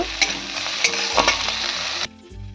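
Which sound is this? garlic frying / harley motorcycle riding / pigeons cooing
garlic frying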